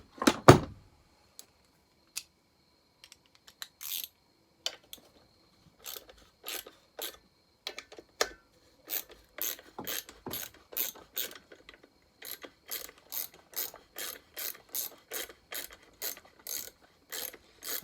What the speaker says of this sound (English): Grab my little socket.